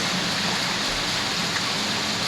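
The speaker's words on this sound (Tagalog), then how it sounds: "Yan o, ang dami ng tubig ulan." A dense, continuous roar of heavy rain and rushing floodwater in a stream, loud and unbroken throughout.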